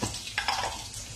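Curry being sautéed in a pan for a Chinese New Year meal, a brief close sizzle with a couple of soft stirring scrapes.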